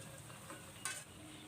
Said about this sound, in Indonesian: Ini ngegoreng tempenya udah mau selesai.